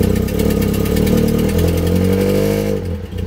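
A Nissan 240SX engine with an exhaust leak runs loud and close for about three seconds, a steady rumbling idle with a rapid slapping pulse running through it, easing off slightly at the end.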